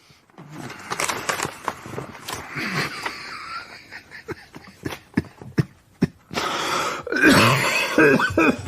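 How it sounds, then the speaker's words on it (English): A run of harsh, repeated coughs and throat-clearing in a radio drama, close and loud, coming in bursts with short gaps between fits. "you're waking us all up with your coughing"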